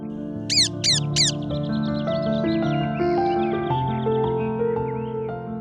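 Three quick crow caws sound in a row near the start, over sustained musical tones that carry on to the end.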